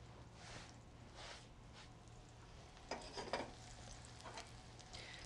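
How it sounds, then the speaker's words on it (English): Eggplant sautés in hot oil in a pan, a faint, steady sizzle with occasional soft stirring scrapes and light clinks of a utensil against the pan, and no talk. "because I'm sauteing my eggplant for the same dish"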